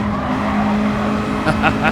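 A car in Gran Turismo 7 brakes late into a corner, its tires squealing in a sustained tone over the engine noise, with short bursts of skid near the end and someone talking over it.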